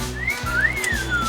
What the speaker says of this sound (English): The guys were like wolf whistling